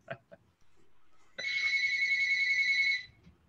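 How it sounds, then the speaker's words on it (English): A telephone rings once in a quiet room, a single sustained electronic trill lasting about a second and a half, preceded by a couple of faint knocks and with no talk over it. "Oops, the phone's ringing."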